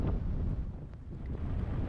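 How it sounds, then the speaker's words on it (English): Wind gusting across a groomed ski slope at Okemo on a frozen, brittle winter day, a steady roar buffeting the camera microphone throughout with no voices. "It was equally as windy"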